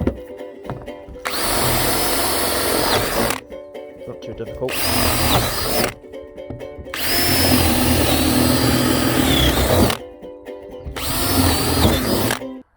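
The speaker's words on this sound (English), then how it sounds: "Big drill for some big holes." A large power drill bores big holes, whirring in four long bursts separated by short pauses, loud and close, with a few spoken words between.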